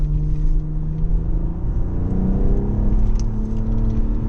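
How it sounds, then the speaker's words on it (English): A BMW M440i xDrive coupe in sport mode gives a steady low exhaust drone and engine hum heard from inside the cabin, a continuous rumble with mild revving swells throughout. "I hope you can hear the exhaust note in the car"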